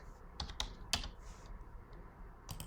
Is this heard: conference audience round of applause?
no